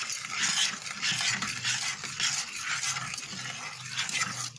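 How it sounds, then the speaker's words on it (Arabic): Continuous soft scraping and swishing of a spoon stirring thick pudding in a pot, steady and repetitive, fairly quiet with no talking. "استمري في التقليب"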